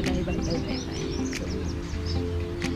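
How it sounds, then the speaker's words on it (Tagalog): Many birds chirping outdoors, short faint tweets scattered over a steady low background hum, with a few slightly louder calls standing out. "ang daming ibon dito"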